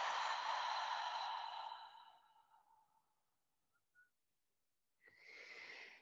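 A deep, long exhale through an open mouth during a guided yoga breathing session, loud and breathy at first, then fading out over about two seconds, followed by quiet and the start of another breath.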